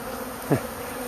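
A swarm of bees hums softly around a hive box, a steady background drone broken by one bee buzzing loudly past close by for a moment.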